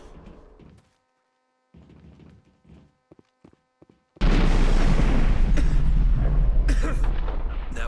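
A detonator explodes in the video game Mass Effect: after a quiet stretch of faint scattered sounds, a sudden loud blast erupts and roars on as a sustained, rumbling wash.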